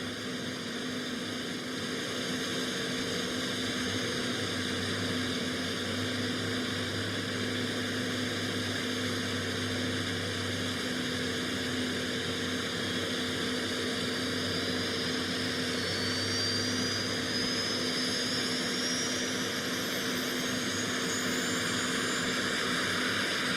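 A tractor pull vehicle's engine spools up in a sustained, droning whine with steady harmonics and a rising high tone, heard from a distance over constant crowd and event ambience.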